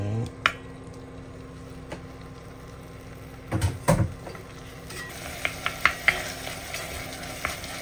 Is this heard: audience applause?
no